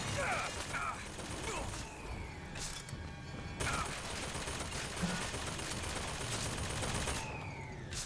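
Rapid, loud gunfire from a powerful gun in BioShock Infinite rattles almost without pause, with mechanical clanks, reload clicks and crashing impacts in a noisy game battle.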